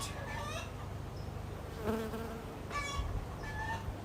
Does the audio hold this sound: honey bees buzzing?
yes